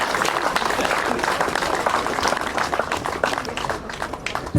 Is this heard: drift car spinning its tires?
no